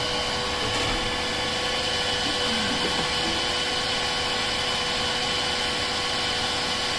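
A heat gun on its cooling setting blows steadily on shrink wrap during a bus conversion's fresh water hose install, a constant broadband whoosh with a motor hum that stays loud and unbroken throughout.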